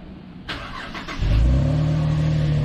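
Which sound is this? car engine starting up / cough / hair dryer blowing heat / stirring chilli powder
car engine starting up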